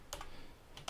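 Computer keyboard keys clack in two quick bursts while C++ code is typed, with a short pause between them, close and clear with no talking.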